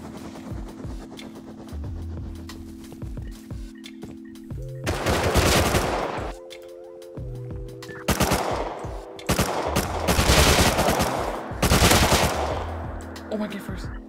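Rapid automatic gunfire in the Rust video game, bursts of close shots repeating over a steady mechanical hum, with loud volleys clustering in the second half and voices talking between them.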